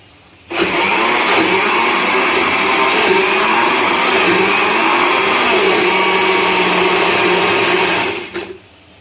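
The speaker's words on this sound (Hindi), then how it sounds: "इसको हम अच्छी तरह फिर ब्लेंड कर दें" A blender runs steadily at full speed for about eight seconds, loud and continuous, blending sarson ka saag (mustard greens) with a tablespoon of wheat flour, then winds down at the end.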